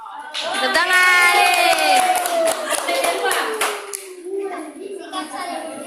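Schoolchildren at an elementary school session clap together in a brisk, rapid patter close by, with a voice and crowd chatter over the applause.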